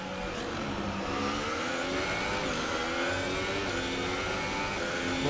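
Formula 1 race car in F1 2018 on a Russian Grand Prix track, its engine droning loud and steady with rising revs and brief pitch drops at gear shifts, no talking over it.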